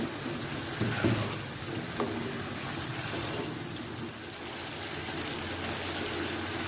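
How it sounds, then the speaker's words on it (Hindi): Potatoes fry in a pan for an aloo tahari rice dish, giving a continuous soft sizzle and crackle with a few small pops, steady and close. "आलू को हम 4 से 5 मिनट तक फ्राई करेंगे।"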